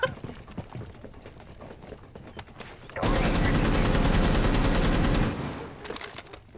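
Sustained machine gun burst in Rainbow Six Siege, loud and rapid with an even rattling rhythm lasting about two seconds, preceded by quieter in-game ambience and scattered clicks.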